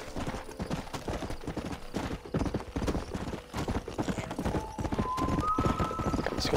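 A horse in the Western video game Red Dead Redemption gallops with fast, steady hoofbeats that stay loud and continuous, with a brief whinny-like tone near the end.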